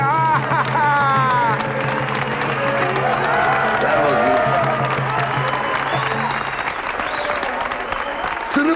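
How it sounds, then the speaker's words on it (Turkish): A crowd applauds and cheers at the close of a scene in a Turkish film, dense clapping that runs throughout with voices shouting over it and music underneath. "Alkışlar!"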